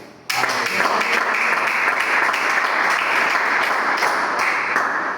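A church congregation breaks into loud, sustained applause that starts abruptly and carries on steadily as dense, continuous clapping filling the room.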